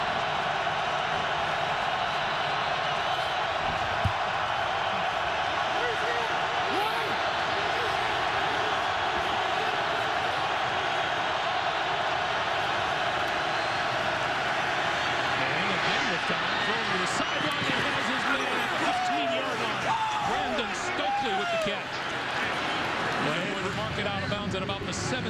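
Baltimore Ravens home stadium crowd at a 2012 football game against the Broncos, a broad sustained roar that swells toward the end while commentators talk over it.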